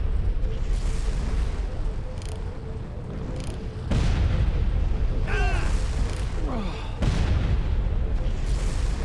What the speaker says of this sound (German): Die haben voll mit Raketenwerfern auf mich geschossen